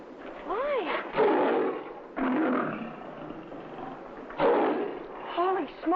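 A lion roars in several loud, close bursts, its deep rumbling calls rising and falling over about six seconds, alone with no talk.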